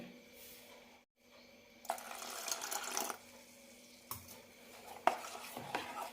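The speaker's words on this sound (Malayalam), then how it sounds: "കുറച്ചുകൂടി വെള്ളം ഒഴിക്കാം" Plain water poured into risen rice flour batter for palappam, then stirred, quiet splashing and clinking of a spoon against the bowl in short bursts after a moment of near silence.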